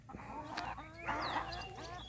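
Chickens cluck and squawk nearby in a quick, busy series of bright calls, moderately loud with no talking over them.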